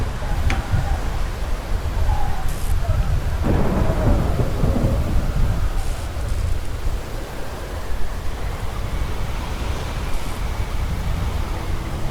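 A steady, loud thunderstorm in the video game WILL: Follow The Light: heavy rain hiss with rolling thunder rumbles throughout, continuous and close.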